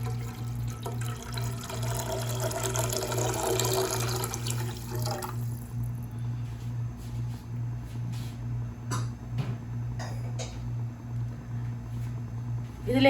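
Water poured from a measuring cup into a pan to cook rava kesari, a steady splashing stream for about five seconds, followed by quieter kitchen handling noises over a constant low hum.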